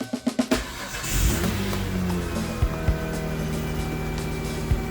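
A Kia Sportage engine with an exhaust leak cranks briefly with several quick pulses, then fires and settles into a steady, close idle, with occasional low thumps.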